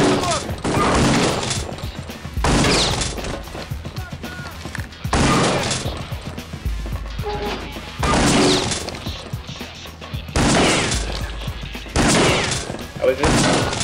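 Gunfire in the video game Kingpin comes in several loud bursts of rapid shots, separated by short quieter gaps with crashes and thuds, while someone talks in between.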